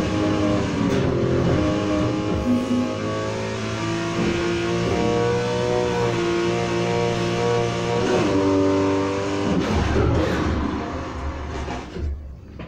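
A Porsche 911 Targa 4 GTS '18 in Need for Speed Heat roars continuously at high revs, its engine note climbing and shifting through gears, loud and close throughout.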